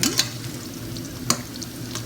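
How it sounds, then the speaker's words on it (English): Nigerian chin chin dough pieces stir-frying in hot oil, a steady close sizzle under occasional scraping strokes of a spoon, with two sharper clinks as the pieces are turned, no talking. "once you keep on stir frying and turn it from time to time, so that the other side can also get fried"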